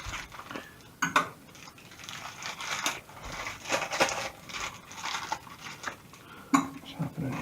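Tough, ultra-strong plastic packaging is pulled, crinkled and torn open in a kitchen, with repeated crackling rustles and a few sharp snaps at close range, no one speaking.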